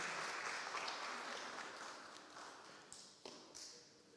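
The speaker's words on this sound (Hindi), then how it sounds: "जोरदार तालियां दें ज़रा" Clapping crowd at an Asian fellowship Friday prayer meeting, a sustained burst of applause that gradually fades, ending in a few scattered claps.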